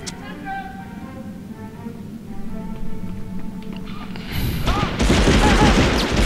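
Gunfire in the PS1 video game Medal of Honor, sewer chase level: loud continuous shooting and blasts over a busy game soundtrack, growing denser toward the end, with a voice talking over it.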